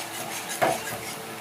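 A spoon scrapes and stirs spice paste as it sautés in oil in a pan for Doi Katla, a Bengali curd-based rohu fish curry, with one sharper clink of utensil on metal in the middle and a faint sizzle underneath.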